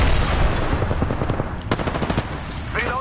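Rapid automatic gunfire in the video game Apex Legends, loud bursts of shots at close range that rattle on for a couple of seconds and then fade.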